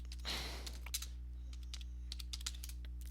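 Keys clatter on a computer keyboard in a quick run of light clicks, close to the mic over a steady low hum, with no voices.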